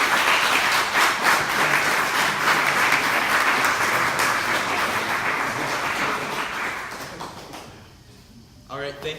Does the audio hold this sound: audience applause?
yes